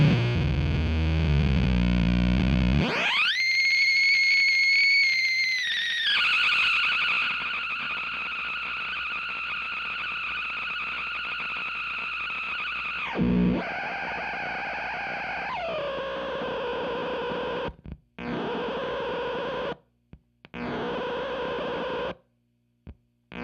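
Germanium Doomsday fuzz pedal with its stability knob turned down, producing loud sustained distorted tones and swooping oscillations that drop out abruptly into brief gaps near the end.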